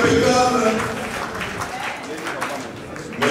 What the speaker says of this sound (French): applaudissez maintenant pour vous-même